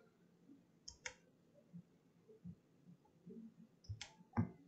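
Mouse clicks at a computer while working in Rhino 7 modeling software: two close pairs of crisp, quiet clicks, one near the start and another near the end, over a faint low room hum.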